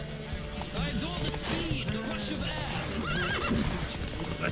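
A white horse in The Witcher 3 video game whinnies repeatedly over rapid galloping hoofbeats, close and loud, with other horses and ambient game sounds in the mix.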